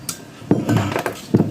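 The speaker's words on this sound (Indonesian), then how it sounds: "seal klepnya kita buka dulu ya. Menggunakan tang spi bisa." Metal tools clink and scrape while circlip pliers pull a hardened valve stem seal off a scooter engine's cylinder head; a few short sharp metallic knocks and clicks, close and dry, with no talking.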